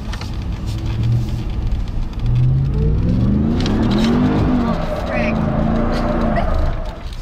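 RAM TRX pickup truck's big engine revving hard, a loud roaring rise and sustained high-rev drone for several seconds, with people talking over it.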